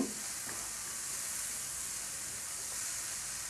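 Finely chopped cauliflower hits a hot pan for vegetable spring rolls, a sharp burst at the start settling into a loud, even, close hiss of sizzling with no voices.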